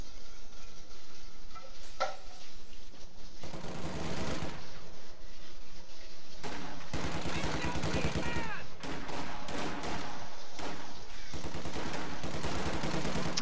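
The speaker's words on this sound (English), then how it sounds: "Sniper is going to start firing away at those rear echelon troops" A sniper fires at rear-echelon troops on the Stalingrad map in the video game Reign 2. Repeated loud shots and bursts of gunfire come amid continuous battle noise, with a voice faintly talking in places.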